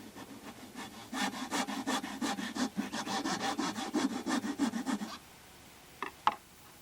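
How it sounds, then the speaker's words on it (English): Rat tail file reaming out the inside of a cork ring for a fishing rod handle, a steady run of rapid rasping strokes close up, then two brief scrapes after a pause. "I've got a little small file here, rat tail file"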